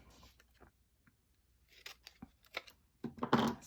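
Scissors snip through paper while a handmade thank-you card with a flower design is made, giving a few close, crisp cuts that grow louder and quicker toward the end after a quiet start.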